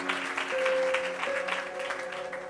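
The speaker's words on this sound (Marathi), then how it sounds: "जरा जोरदार टाळ्या प्रभूच्या गौरवासाठी" A church congregation claps loudly and steadily in praise of the Lord, a dense continuous wash of applause with a sustained tone humming underneath.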